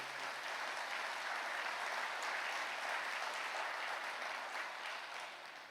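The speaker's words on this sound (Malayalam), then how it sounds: "ഒന്ന് കൈ ഉയർത്തി കൈയടിച്ച് കർത്താവിനെ മാതപ്പെടുത്തുക" Steady applause from a large crowd at a Catholic sermon, a dense wash of clapping that holds evenly and fades slightly at the end.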